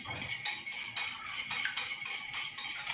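Eggs being mixed with granulated sugar and vanilla for pancake batter: a utensil clinks and scrapes rhythmically against the bowl in steady, quick strokes, close and clear with no talking.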